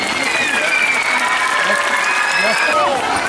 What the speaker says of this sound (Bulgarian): Неспиращи аплодисменти в този момент, моля ви.